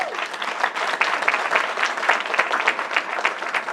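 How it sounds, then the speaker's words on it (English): Lively clapping from an audience at a board of education meeting, a moderately close, steady burst of many hands with crisp individual claps. "I'd like him to stand up and at least get a round of applause for his work"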